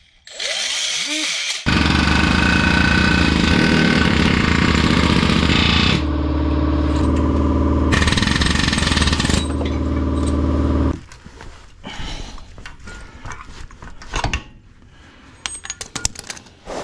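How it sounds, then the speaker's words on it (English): An air chisel cuts off homemade skid guards on a Jeep chassis, loud harsh bursts of rapid hammering in several long runs, then scattered metal clanks and knocks as the work eases off. "here with the air chisel, should be able to snap it off"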